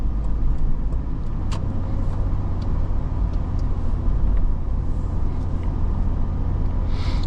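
Inside a 2007 Toyota 4Runner cruising along a straight road, a steady low engine drone and road rumble continue evenly throughout with no voices.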